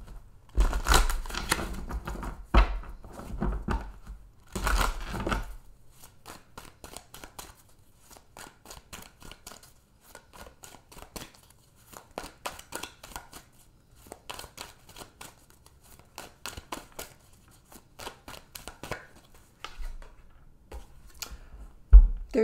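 Tarot cards are shuffled by hand in rapid, crisp riffles and snaps, loud at first. Quieter bursts of flicking and tapping follow in irregular clusters, with no talking.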